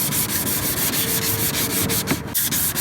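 Sandpaper rubs back and forth across a plastic car headlight lens, a loud, close, continuous scratchy rasp with brief pauses between strokes.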